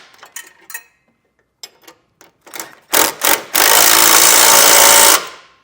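On a Roadmaster Direct-Connect base plate kit for a 2022 Jeep Grand Cherokee, a 3/4 inch socket and wrench snug the bolts down: scattered sharp ratcheting clicks give way to a sustained, loud, close whirring run that stops abruptly.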